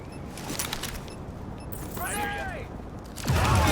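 Enemy gunfire in The Division rattles in scattered bursts behind game effects and a voice, with a louder burst near the end, moderately loud and somewhat distant.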